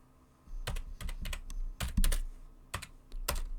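Rapid bursts of keystrokes on a computer keyboard, close and clear, clustered into short runs with brief pauses between, entering a number, period and space in a note-taking app; no voices.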